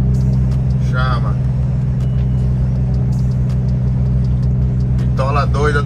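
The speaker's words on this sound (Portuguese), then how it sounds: "Barulhão desse carro da frente." A loud car engine rumbles deep and continuous during a street parade, a heavy droning roar close by that dominates throughout, with brief voices and crowd sounds rising above it now and then.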